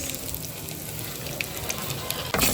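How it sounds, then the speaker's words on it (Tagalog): Soft, steady crackling sizzle of small anchovies frying in hot oil, with faint pops and a brief louder burst at the end. "Prito tayo ng dilis."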